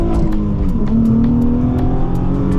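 A Nissan 350Z HR drops into first gear and accelerates, its engine note climbing steadily and loud from inside the car, with faint clicks over the drone and no talking.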